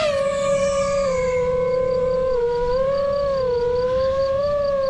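Quadcopter drone flying on ETX S5 cinematic propellers, giving a steady, close, high-pitched whine whose pitch wavers gently up and down throughout, with no other sounds.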